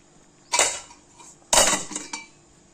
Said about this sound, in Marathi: आता मी याच्यावर पुन्हा दोन मिनटं झाकण ठेवून